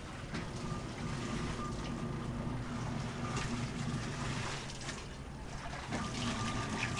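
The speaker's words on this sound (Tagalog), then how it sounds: "Kapag naglalaba po, ayan, yung tubig dumadaloy dito sa may hagdanan." Laundry water flowing down a set of stairs toward a view deck, a steady, close, continuous rushing and splashing with no talk.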